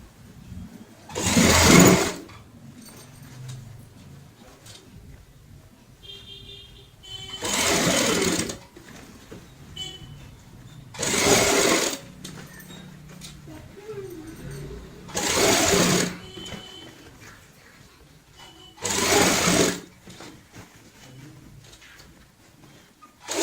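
A sewing machine stitching fabric for a baby girl's cap runs in five short loud bursts, each a few seconds long, separated by quiet pauses with faint handling noise.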